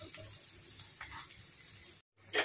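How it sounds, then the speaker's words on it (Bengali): Egg curry simmers and bubbles in a pot with a steady, close frying-like hiss. It cuts out briefly near the end, then returns a little louder. "দেখো এখানে ডিমের ঝোলটা ফুটছে"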